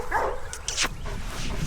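Several dogs bark near a walk with a fear-reactive German Shepherd in training, a few sharp mid-range barks and yips over steady outdoor noise, fairly close and loud.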